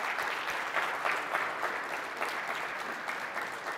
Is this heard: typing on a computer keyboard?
no